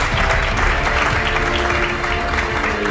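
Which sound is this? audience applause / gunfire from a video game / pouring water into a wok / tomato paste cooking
audience applause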